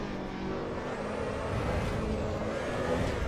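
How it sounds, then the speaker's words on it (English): A car engine in the racing game Assetto Corsa Evo, a steady mid-pitched drone holding a constant level throughout with a faint rising whine, close and continuous with no talking. "this car sounds amazing"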